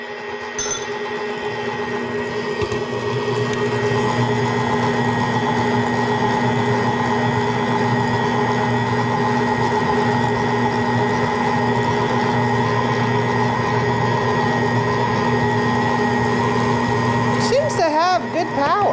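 A VIVOHOME 6.7-quart, 800-watt stand mixer runs at high speed mixing cookie dough with flour added, producing a steady, loud motor hum and whine that holds without strain, with a few faint clinks at the end.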